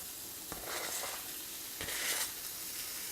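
Chopped steak fries in a hot pan with peppers and onions, a steady close sizzle with a couple of brief stirring or scraping swells.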